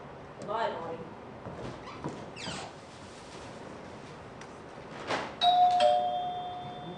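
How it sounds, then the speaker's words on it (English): A doorbell rings during a stage play: a bright two-tone chime sounds clearly near the end, after a stretch of quiet shuffling and muffled movement. "I want you to go out that door, turn around, ring the bell again, and come back in."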